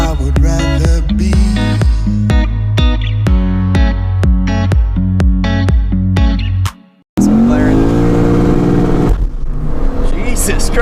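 A tuned 2009 Lexus IS F with headers, intake work and a tune revs hard in a series of sharp, evenly spaced blips, then drops out briefly before a loud sustained rev builds again, close and aggressive.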